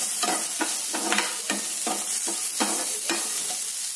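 Onion and black pepper frying and being stirred in a mud pot for coastal-style chicken sukka, a close, steady sizzle broken by regular scraping stirs about every half second.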